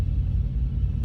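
A truck engine idles with its idle raised to nearly 1,000 RPM, giving a steady, close, low rumble with an even throb and no voices.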